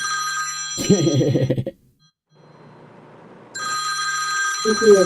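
A telephone rings during a virtual meeting, its electronic bell tone sounding in two bursts with a quiet gap between them, while people talk over it.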